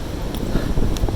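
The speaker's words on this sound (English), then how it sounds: "you guys can hear the wind. It's a pretty good gust" A gust of wind buffets the microphone on a mountain trail in the Smokies, a loud, rumbling low roar with fluctuating pressure that fills the whole moment, no voices present.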